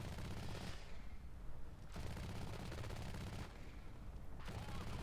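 Rapid bursts of heavy cannon fire from anti-air units in War Thunder Mobile, loud and continuous, with two short pauses between volleys.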